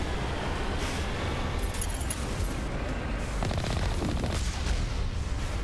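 Gunfire in Mass Effect 1: steady, dense crackling shots and booms run throughout at a fairly loud level over continuous battle noise, with no voices.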